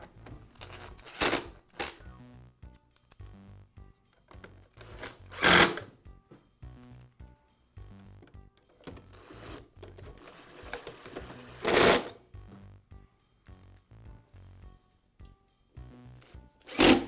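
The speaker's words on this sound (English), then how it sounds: "Now I'll reinstall the screws that secure the two halves of the housing together." Screws are driven back into the two halves of a Bostitch air compressor pump housing, with a handful of short, sharp mechanical bursts spaced irregularly over a faint steady background, close and fairly loud.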